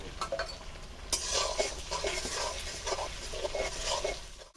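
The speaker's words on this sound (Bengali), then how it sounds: "পেঁয়াজটা আমার ভাজা হয়ে গেছে, এবার দিয়ে দেবো আদা রসুনের পেস্ট 1 চামচ" A spoon scrapes and stirs ginger garlic paste into onions frying in a pan, giving repeated clinking, scraping strokes over a soft sizzle, close and moderately loud.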